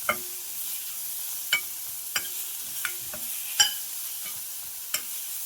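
Chopped tomato and tender tamarind leaves cook on a low flame in a pan, giving a steady soft sizzle broken by several sharp scrapes and taps of a stirring spoon, with no talking.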